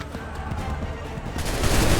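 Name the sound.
musket volley gunfire in video game Assassin's Creed III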